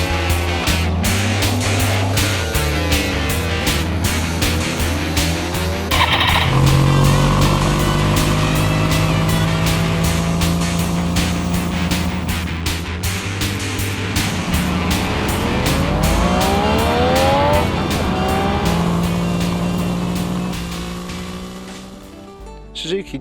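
A Suzuki GT750 A model Patroller motorcycle on the move, its engine running loud and continuous, rising and falling through gear changes while wind rushes over it, then easing off toward the end.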